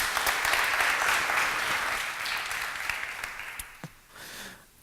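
A conference audience applauds a presenter, with full, even clapping that gradually thins and tapers off near the end while a voice briefly comes through.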